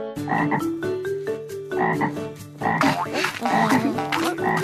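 Frog croaks from a cartoon telling of The Frog Prince repeat in loud, steady bursts of rhythmic ribbits with no speech.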